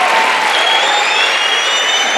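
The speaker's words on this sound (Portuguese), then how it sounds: "Aplaude mais, gente, ele tá vindo ainda." Congregation clapping steadily at a church conference while a pastor is welcomed, a dense continuous wash of applause from a large crowd filling the room.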